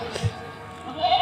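A goat gives a short, wavering bleat that rises near the end, close by and alone, after a brief low thump.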